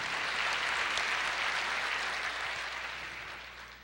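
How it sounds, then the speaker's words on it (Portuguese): A church congregation claps together in a dense, continuous burst that slowly fades toward the end, with no voices over it. "Aplauda o Senhor"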